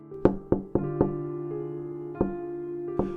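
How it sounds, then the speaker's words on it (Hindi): Soft knocks land on a door as a horror story sound effect, six resonant taps in an uneven rhythm: a quick cluster of four, a pause, then two more, each ringing briefly. The knocks are close and moderately quiet, with no voices. "तभी दरवाजे पर एक हल्की सी दस्तक हुई।"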